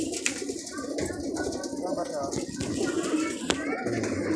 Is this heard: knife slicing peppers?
no